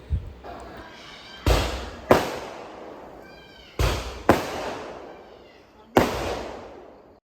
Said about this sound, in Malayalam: ഇത് എല്ലാ വർഷവും ഇവരിങ്ങനെ പടക്കം പൊട്ടിക്കുകയും പൂവടി അങ്ങനെ സംഭവങ്ങളൊക്കെ ഇതവർ പതിവാണ്